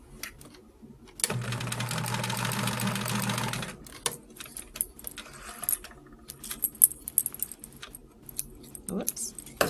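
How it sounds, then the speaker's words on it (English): A sewing machine stitches quilt block pieces together in one steady, fairly loud continuous run lasting a couple of seconds, then stops, followed by quieter handling noises and light clicks. "Make sure my alignment is correct and sew these 2 together."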